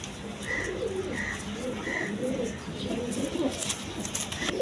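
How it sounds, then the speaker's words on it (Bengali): Red Jacobin pigeons coo softly in a low, steady murmur, with short repeated calls rising over a continuous background of other birds and a faint voice talking nearby. "মাত্র 2500 টাকার জ্যাকোবিন কবুতর, রেড কালার দেখেন"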